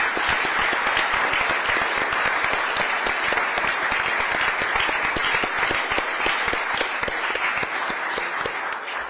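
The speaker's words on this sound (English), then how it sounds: "Let's give him a round of applause." Sustained applause from an audience at a legislative forum at Sonoma State University, a dense, steady wash of many clapping hands that holds at full strength for about nine seconds, tapering only slightly at the end.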